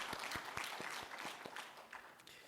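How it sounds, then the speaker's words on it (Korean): A small church congregation claps in a light, steady rhythm, a few distinct claps over a soft wash of applause, moderately distant. "박수 한번 쳐드리겠습니다"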